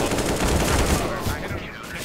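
Rapid automatic FAMAS rifle fire in CS:GO, a dense burst of shots lasting about a second and a half before tapering off, loud and close.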